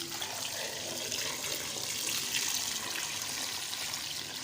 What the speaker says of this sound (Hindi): और मैं इसके अंदर पानी डालूँगी